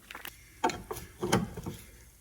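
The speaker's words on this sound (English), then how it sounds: "This is my bottle jack again." A bottle jack pumps up the rear suspension of a Chrysler Grand Caravan minivan during a trailing arm bushing job, giving a few separate mechanical clunks and ratcheting knocks close by, with short quiet gaps between strokes.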